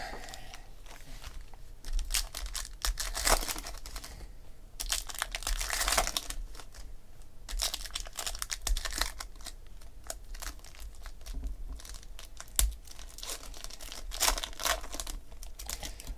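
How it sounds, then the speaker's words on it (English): Crinkly foil trading card packs being ripped open and crumpled in short, zipper-like bursts, sharp tearing noises close up with quiet pauses between them. "I love when these packs sound like a zipper."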